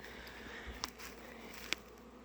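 Bees buzz steadily around hives at an apiary in early spring, with two brief louder passes close by against a soft, constant hum.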